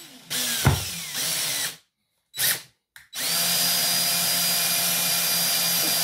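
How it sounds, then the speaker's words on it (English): A power drill with a 5–6 mm masonry bit whines loudly in sustained bursts through natural slate, stopping briefly twice before grinding steadily on, close up. "And I'm just going to drill through."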